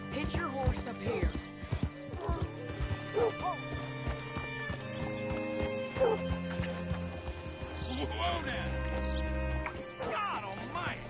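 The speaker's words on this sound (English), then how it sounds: "Hitch your horse up here." Horse in Red Dead Redemption 2 clip-clopping with hooves and whinnying, set against game music and sound effects, with people talking over it.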